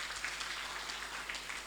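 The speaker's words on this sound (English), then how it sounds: "Can we give her a big round of applause?" Audience applause at a Malawian civil-society event, a steady wash of many hands clapping at moderate volume for under two seconds, with no voices over it.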